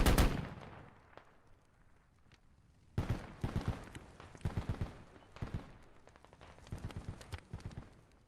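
Gunfire in the military shooter game Squad: a loud opening burst, a quiet lull, then repeated clusters of shots and rapid bursts at varying distances, some close and sharp, others more distant.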